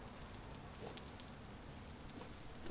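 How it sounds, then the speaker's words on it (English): Steady hiss of rain falling in the Vintage Story video game, a dense, even wash of drops with no talk over it. "I wish it had stopped raining though."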